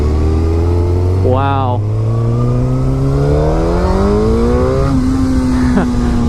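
A Suzuki GSX-R1000 liter bike revs hard and climbs through the gears with a rising, loud engine whine, close by, while a rider briefly exclaims over it.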